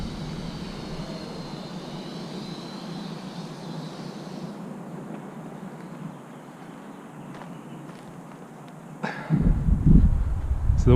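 An Eachine E55 WiFi FPV drone flies in a stiff wind of about ten miles per hour, giving a steady whirring hum under constant wind rush. The hum thins midway, and closer, louder buffeting gusts hit near the end.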